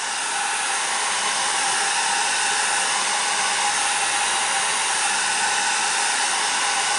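A hair dryer blows steadily on alcohol ink laid on a tile, a loud, constant close-up roar of rushing air with no pauses or speech.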